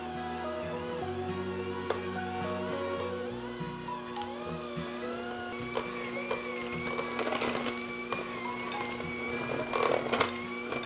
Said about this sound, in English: using the hand mixer on slow, we're going to cream this all together